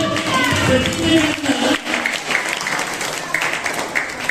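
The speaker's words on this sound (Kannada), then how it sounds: "ನಿಂತ್ಕೊಳಪ್ಪ, ಹೊಡಿಲಿ ಚಪ್ಪಾಳೆ" Seminar audience at a school applauding, a dense wash of clapping that fades after the first couple of seconds into a thinner patter, with a voice talking over it.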